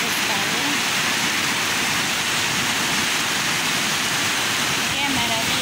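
Water rushes steadily along a trail on the Camino de San Lucas, a loud, broadband roar like a nearby stream or small waterfall, constant throughout with faint voices beneath.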